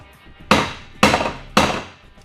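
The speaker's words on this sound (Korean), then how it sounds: "오늘도 화끈한 망치 소리였는데요" A hammer or gavel strikes a hard wooden surface three times at an even pace, each sharp close knock ringing briefly before the next.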